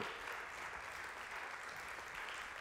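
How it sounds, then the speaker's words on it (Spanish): Church congregation applauding at a Spanish-language Friday evening service, a steady dense wash of clapping throughout, moderately distant and unbroken, with no speech over it. "Le das aplauso fuerte, tenemos oportunidad."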